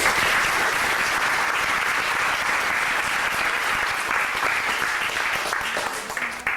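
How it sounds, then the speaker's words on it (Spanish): Sustained applause from an audience honouring park staff at an evening event in Panama, a dense steady wash of many clapping hands filling the whole stretch and tapering slightly at the end. "un aplauso al personal del parque"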